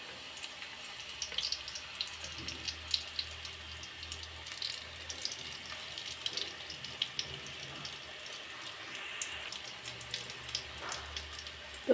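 Vegetable rings coated in flour batter fry in hot oil, giving a steady, close crackling sizzle with fine spattering pops that continues without a break and with no talking.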